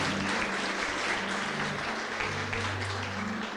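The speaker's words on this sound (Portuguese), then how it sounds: "Dê um aplauso ao Senhor pela vida do pequeno Theo." A church congregation applauds during a family worship service, a dense steady wash of clapping held at even loudness throughout, with low tonal music or hum beneath it.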